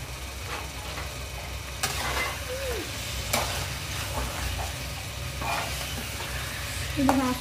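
Chicken pieces frying in a pan with ginger garlic paste for a gongura chicken dish, a steady close sizzle and stir with a few louder scraping bursts.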